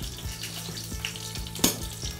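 Garlic cloves, left in coarse pieces, frying in two to three spoonfuls of hot oil in a pan, giving a steady close sizzle with small crackles and one sharper pop, no talking.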